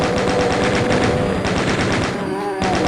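Rapid machine-gun fire from chaingunner enemies in Doom's Sunlust map08 Oneira, a loud continuous rattle with a brief break near the end, mixed with other game sounds and no talk.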